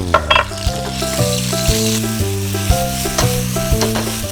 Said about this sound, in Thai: เราจะผัดเครื่องแกงให้หอมก่อนก็ใส่ลงไป